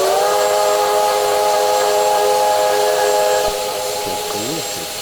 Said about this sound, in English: I do think the audio level on the whistle can be turned up.